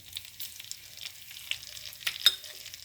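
Green chillies and Kashmiri chilli spit quietly in hot tadka oil for a fresh pea dal, with the gas turned off. The crackling is faint and scattered, with a few sharper pops.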